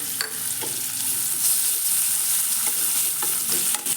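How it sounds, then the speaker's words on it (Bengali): A steady, crackling sizzle of chopped onion frying in oil, with a few sharp utensil clicks from stirring; no voices. "ওই একই তেলে আমি কুচানো পেঁয়াজটা দিয়ে নেবো"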